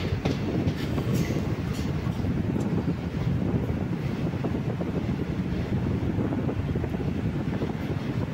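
A passenger train running just past Alappuzha station, with a continuous loud rumble and rattle of the carriages and wind rushing past the microphone, heard from on board throughout.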